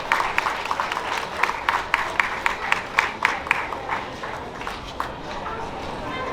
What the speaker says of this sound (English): Now let's give Mr. Garcia a nice round of applause.